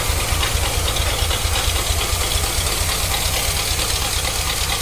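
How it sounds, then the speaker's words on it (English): A 1974 Corvette Stingray's engine runs steadily on a fresh carburetor, a close, even rhythmic idle with a pulsing low throb and hissy overtones, no talk over it. "It runs so much better when there's not water in the gas and you have a decent carburetor."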